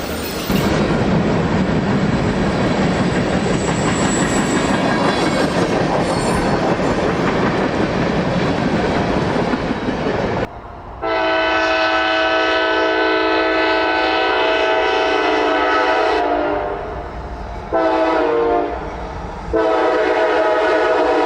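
A train of rail cars passes in Alabama: a loud, close rumble of wheels and cars, then long, steady horn blasts broken by short gaps, ringing out alone.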